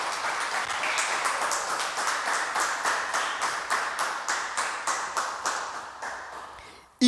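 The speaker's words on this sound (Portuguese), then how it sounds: "Você pode dar uma salva de palmas ao Senhor por isso?" A church congregation claps in unison, a steady rhythmic beat of many hands at an even pace that gradually thins out and stops, followed by a brief sharp sound at the very end.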